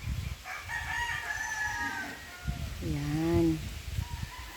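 Chickens in a backyard farm coop, with a rooster's crow in the middle distance and a second shorter call, over faint scratching and a brief spoken word.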